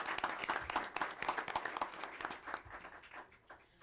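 Audience applause at a school board of education meeting, a faint patter of many hands clapping that slowly thins out toward the end.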